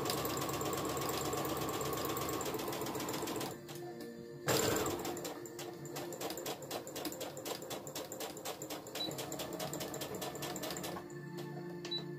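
A sewing machine stitches a cosplay bodice in fast, steady rhythmic runs, stopping briefly partway through before resuming with a rapid clicking needle beat.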